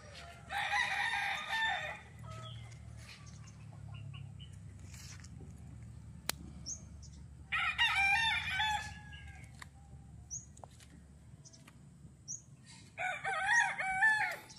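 Gamefowl roosters at a game farm in Bauang, La Union crow in three separate bouts, near and loud, with quieter clucking and faint farm ambience between the calls.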